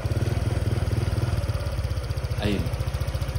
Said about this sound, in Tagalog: normal na ulit yung idling ng kanyang motor